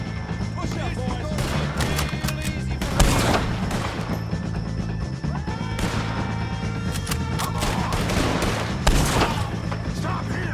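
Heavy gunfire rattles through a Red Dead Redemption 2 shootout with O'Driscoll gang members, a steady barrage with sharper, louder shots near the third and ninth seconds, mixed with shouting voices.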